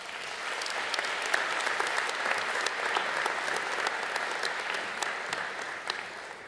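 Warm, sustained applause from a large convocation audience welcoming a speaker at a college ceremony, a dense even wash of clapping with scattered sharper claps, moderately loud and unbroken.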